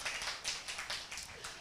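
An audience at a talk gives a short, fairly faint round of clapping, heard as a string of soft, slightly irregular claps.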